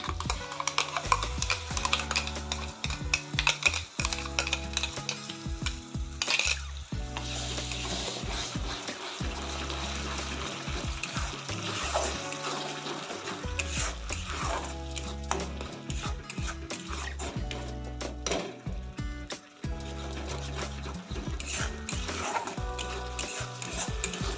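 Fish curry with salt and ground tomatoes being stirred in a pan, close and steady, with scraping and light sizzling clatter running throughout, no voices.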